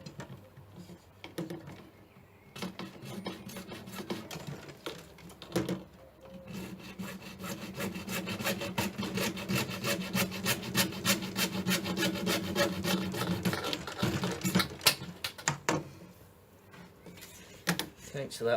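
A hand saw cuts unclamped PVC pipe in quiet rasping back-and-forth strokes that quicken and grow louder, with short talk before the cut begins.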